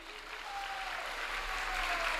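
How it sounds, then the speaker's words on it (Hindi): An audience at a Sri Krishna Janmashtami lecture breaks into steady, enthusiastic clapping that builds and holds for about two seconds, with no voices over it. "उसके लिए जोरदार ताली"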